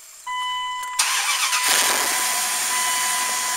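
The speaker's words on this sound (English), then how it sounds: "Go ahead and start your vehicle." A vehicle engine cranks and fires up after an oil change, catching with a loud surge and then settling into a steady, close idle with no talking.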